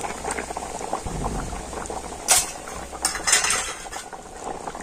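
Potato curry for a vegetarian aloo dish bubbling in a covered pan, a steady close simmer with a few metallic clinks of lid or utensil, no voices.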